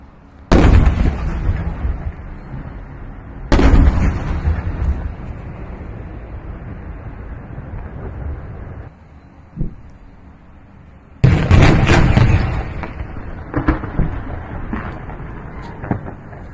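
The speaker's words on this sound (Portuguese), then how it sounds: "não dá para ver nada nesse vídeo, mas dá só para ouvir as explosões" Several loud, booming explosions go off at intervals during the war in Ukraine, each followed by a long rumbling decay, with a faint pop in between.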